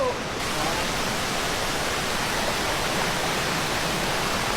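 Steady, roaring rush of falling water at the third tier of Chantathen Waterfall, a broad continuous wash of noise filling the whole clip with no clear voices.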